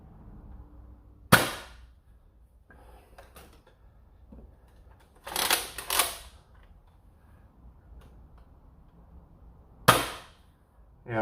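Three sharp, loud pops from a toy foam blaster being fired, spaced several seconds apart with quiet handling noise in between.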